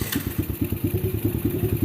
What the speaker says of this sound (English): So we're going to start the bike again now.